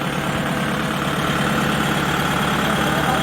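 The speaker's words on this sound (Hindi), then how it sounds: "इन भाई ने लो गियर में ट्रैक्टर को लगा के बिना क्लच को ऑपरेट किए" A Kubota tractor engine runs in low gear with a loud, steady, low rumble and a constant vibrating drone at close range, with no voices.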